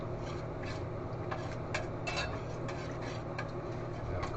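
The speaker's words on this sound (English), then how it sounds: "we start mixing our flour and our milk together" Flour and milk being stirred into sausage gravy in a pan, a soft scraping and rubbing with occasional light clinks of the utensil, faint and close, with no talking.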